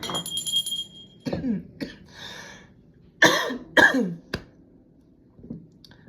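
Several short, sharp coughs and throat clearing from one nearby person, spaced unevenly with quiet gaps between them.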